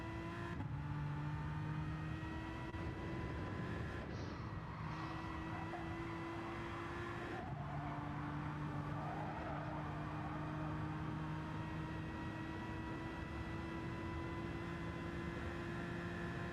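A Saleen S7R race car on the Nürburgring in a 24-hour racing game holds a loud, sustained engine whine that climbs in pitch, broken by a few quick gear-shift dips and each time rising again.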